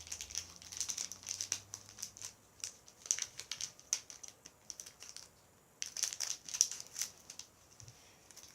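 Purple slime container being opened and handled, giving a run of soft crinkling, crackling and clicking noises close up, irregular and fairly quiet, with no voices.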